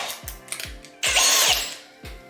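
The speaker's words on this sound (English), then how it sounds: "and then that socket goes on my drill." A power drill with a socket adapter spins in short bursts with a clicking, ratcheting rhythm, including one longer whirring run as a bolt for a TV wall mount is driven in.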